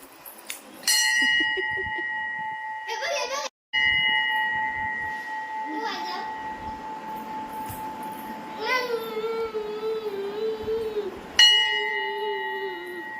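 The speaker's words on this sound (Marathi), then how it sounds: "घंटी वाजव." A child rings a bell at the Shri Swami Samarth shrine in Sangameshwar, with several bright strikes whose tones ring on and decay slowly, while children's voices and babbling carry underneath.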